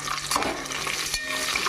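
Chilies, including salted dried chilies, fry in hot oil while being stirred in a pan for lemon rice, a dense close sizzle with scraping stir strokes throughout.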